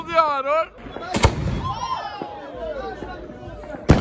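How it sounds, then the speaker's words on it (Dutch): Sharp bangs of New Year fireworks burst out twice amid a lively crowd, with a whistling rising tone at the start and cheering voices throughout. "Maar het is eerst tijd voor wat vuurwerk."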